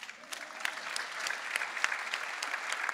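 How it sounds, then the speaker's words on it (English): Audience applause fills a conference hall at the World Health Summit, steady clapping from many hands sustained throughout at moderate level without voices. "Hey, clap for them."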